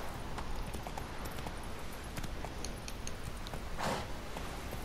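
A horse gallops in The Witcher 3, its hooves clip-clopping in a steady, continuous rhythm at moderate volume, with faint game ambience underneath.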